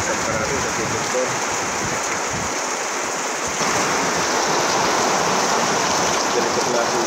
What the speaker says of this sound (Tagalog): Ganito klaseng ulan. Talagang magtatagal ito.